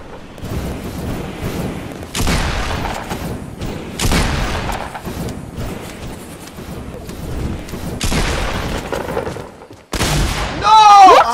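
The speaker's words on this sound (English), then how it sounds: "Nah, shotgun him now." Shotgun blasts in a sky-base building video game, four heavy booming shots spaced a couple of seconds apart amid a busy game mix, ending with a louder burst and a whining sweep.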